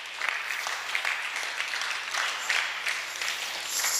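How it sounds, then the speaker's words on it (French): A congregation at a Sunday church service applauds together in a sustained, even wash of clapping. It stays fairly loud and continuous for several seconds, with no talking over it. "au paragraphe 49, on acclame"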